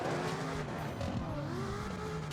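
A car spins out while drifting in CarX Drift Racing Online 2, its engine droning steadily with wavering tire squeal layered over the continuous roar.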